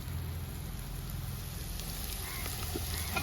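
Ginger, green chillies and salt frying and being stirred in a hot pan, with a steady, close sizzle and faint crackles running throughout.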